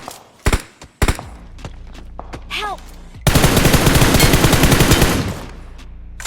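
Machine gun spray fire in the BGMI PUBG Mobile battle royale game: a few scattered loud shots, then a sustained close burst of rapid automatic fire lasting about two seconds.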